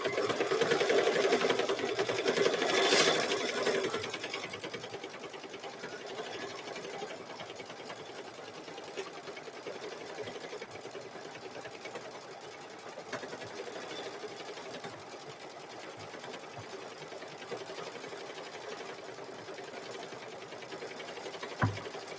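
A computerized quilting machine stitching a cow-pattern quilt runs steadily throughout, a continuous close whirring hum with rapid needle chatter, no talk over it.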